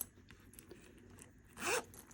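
A flat zipper on a leather project made with a Cobra Class 26 sewing machine is pulled in one quick, close, crisp rasp near the end, after a quiet stretch.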